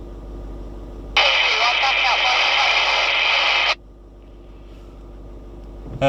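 An emergency two-way radio set in a range test lets out a loud, harsh burst of static hiss lasting a couple of seconds, then cuts off abruptly into a quiet background.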